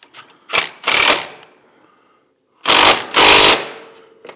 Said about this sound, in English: So the bolt is going to be a 12 and the nut's going to be a 13. Let's get that wrench on there correct.